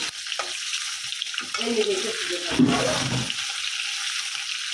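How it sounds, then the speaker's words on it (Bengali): Fish frying lightly in a pan, a soft sizzle with a brief surge of spattering midway, heard under household background noise. "মাছটা একটু হালকা বাজা দেবো বেশি বাজা দেবো না"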